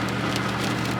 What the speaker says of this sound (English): See the rain blowing off this tanker truck in front of me.